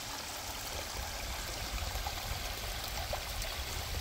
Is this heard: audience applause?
no